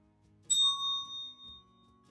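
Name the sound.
ringing bell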